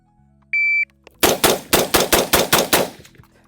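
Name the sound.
semi-auto gunfire during a timed shooting drill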